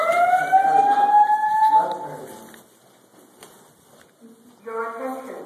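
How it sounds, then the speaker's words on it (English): A building fire alarm sounds with a rising electronic whoop and tonal beeping that fades into quieter stretches before the pulsed tones return near the end. "The fire alarm has been activated."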